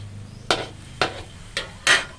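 A spatula scrapes and tosses Poi Sian mixed vegetables in a pan, making four distinct stirring strokes about half a second apart, close and crisp, with no talking.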